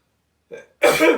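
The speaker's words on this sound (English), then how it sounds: "Bless you." A single sneeze indoors, a brief sharp burst preceded by a short intake, close and fairly loud against silence.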